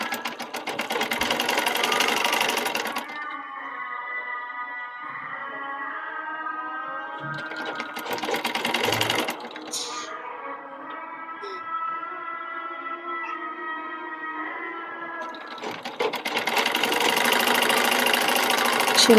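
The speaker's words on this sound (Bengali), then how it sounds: "সেলাই করে নিচ্ছি।" A sewing machine runs steadily for several seconds stitching the sleeve of a newborn baby garment, a smooth mid-pitched hum between louder bursts of rustling fabric and handling at the start, middle and end.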